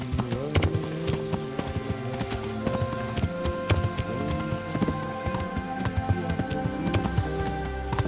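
Horse hooves clip-clop at a steady, moderate pace in the medieval role-playing game Kingdom Come: Deliverance, fairly close and mixed with game music and ambience, with no talking.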